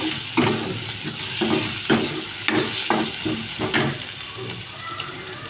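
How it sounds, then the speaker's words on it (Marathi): Tomatoes sauté in a hot pan for dal khichdi, giving a continuous sizzle broken by rhythmic stirring scrapes every second or so. "चांगला परतायचा आपण टोमॅटो."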